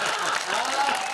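Audience applause at a Hindi comedy poetry gathering, a steady wash of clapping that sounds somewhat thin, with crowd noise and voices mixed in throughout.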